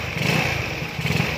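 A motorcycle engine, just started after fitting a new Bendix starter drive, settles into a low, steady idle rumble nearby, with no talking.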